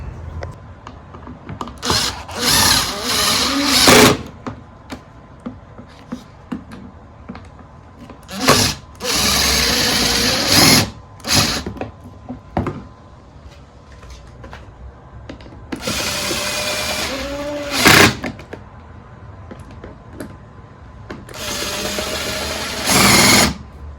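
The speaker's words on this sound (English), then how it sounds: "tighten up the 4 bolts" A power drill drives home four bolts while assembling a storage system for a Toyota RAV4, with several loud bursts of whining motor separated by quiet pauses, close up and with no talk.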